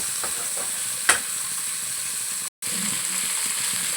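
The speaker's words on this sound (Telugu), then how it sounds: "దాచర చెక్క లవంగాలు వేయాలి వేసి బాగా కలపాలి" Cinnamon sticks and cloves sizzle steadily in a hot pan with garlic for a paneer masala curry, with a few soft stirring scrapes and one sharp clink of the spoon, close and continuous.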